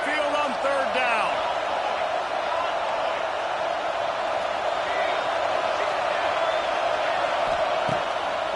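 Stadium crowd at Saban Field roaring on third down in the College Football 26 video game, a broad, sustained wash of noise under commentary voices, with a whistle-like cheer early on.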